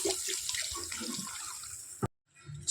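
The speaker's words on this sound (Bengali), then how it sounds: "এবার জল দিয়ে দেবো" Tap water splashes and runs into a cooking pot of egg curry, a steady close pour that stops abruptly near the end before faint kitchen sounds resume.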